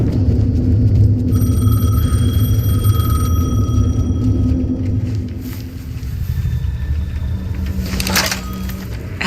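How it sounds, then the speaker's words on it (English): A payphone rings in Alan Wake 2, a bright electronic trill repeating over a loud, constant low rumble that fills the scene. "The payphone was ringing."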